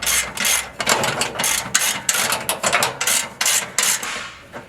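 A hand ratchet with a 17mm socket tightens a frame plate bolt on a Toyota 4Runner, producing a quick series of loud, close clicking bursts in an uneven rhythm.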